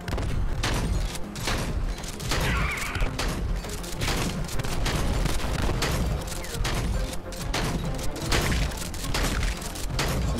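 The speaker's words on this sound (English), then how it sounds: "And we got hand cannon plus mine laying overdrive." Repeated hand cannon gunfire and exploding mines in the Rogue Stormers video game, dense rapid blasts and booms continuing throughout.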